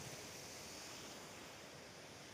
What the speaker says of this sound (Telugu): చూడండి ఆ నీళ్ళు కింద అంతా పోతున్నాయి సైడ్ అంతా